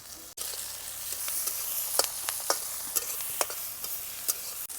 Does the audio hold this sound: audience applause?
no